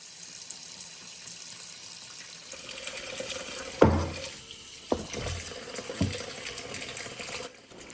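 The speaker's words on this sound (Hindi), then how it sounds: "तभी आप वाटरिंग करो।" Water pours onto potted plants in ceramic planters, a steady splashing stream with a few louder gushes and knocks before stopping abruptly.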